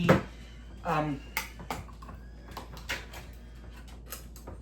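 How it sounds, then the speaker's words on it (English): Spoon stirring chili in a pot, a series of close scraping knocks and clinks against the pot, irregular and fairly quiet, with soft speech in places. "we're just going to give this a stir"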